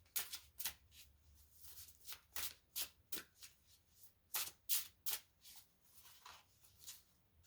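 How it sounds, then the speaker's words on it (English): Rapid riffles of stiff oversized playing cards being shuffled, a series of crisp bursts in an irregular rhythm, close and fairly loud with no talking. "These are oversized cards. They are so hard to shuffle."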